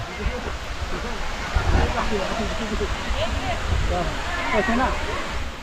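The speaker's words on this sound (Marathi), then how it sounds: "मित्रांनो हा समोर आहे तो काळमांडवी धबधबा आणि त्याचा छोटासा तलाव." The Kalmandavi waterfall and its small pool in summer, a steady broadband rush of falling water with a person talking over it.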